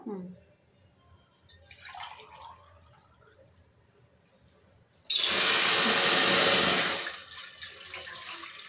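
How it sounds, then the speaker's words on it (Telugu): Water is poured onto rice for Mughlai chicken dum biryani, a loud, rushing gush that lasts about two seconds and then drops to a softer trickle. Voices and quiet kitchen sounds come before it. "ఇప్పుడు రైస్కు వాటర్ పెట్టుకుందాం"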